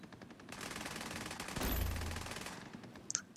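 Rapid automatic gunfire from The Division 2 shooter game crackles in a dense burst, swelling louder midway with a heavy low thump before tapering off.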